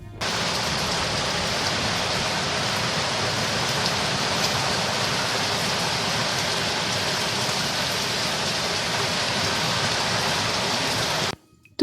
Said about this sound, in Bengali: মিনিট দুয়েকের মধ্যেই ঝমঝম করে বৃষ্টি পড়া আরম্ভ হয়ে গেল